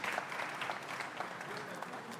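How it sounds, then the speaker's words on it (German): An audience at a panel discussion at a national IT summit applauds to welcome a guest, giving dense, steady clapping throughout, with a voice faintly underneath. "Viel Applaus."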